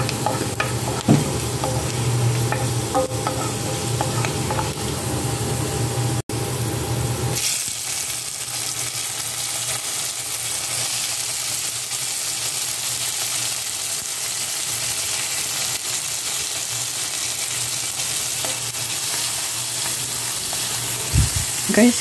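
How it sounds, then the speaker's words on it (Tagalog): Onions sautéing in a pan for mustasa, a dense close frying sizzle with stirring scrapes at first, then a steadier, quieter hiss for the rest, with faint background voices. "Here we go, magigisa na tayo ng sibuyas."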